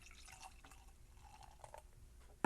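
Beer, a candy pecan Scotch ale from a can, is poured into a glass as a soft, steady liquid trickle with small drips, ending in a sudden loud knock.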